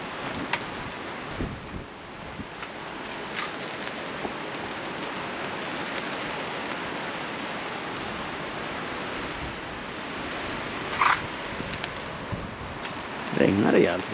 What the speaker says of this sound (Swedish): Regnar rejält i alla fall.